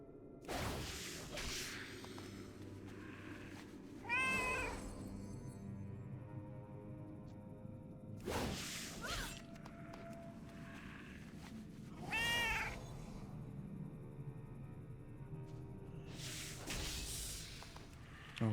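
A house cat meows several times in a quiet room, spaced-out, drawn-out, rising cries that come every few seconds, fairly close, between softer rustles and whooshes.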